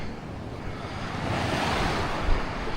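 Surf washing onto Rincon Beach on the Samaná Peninsula in the Dominican Republic, a steady broadband wash of breaking waves with some wind buffeting, loud and continuous with a brief swell near the end.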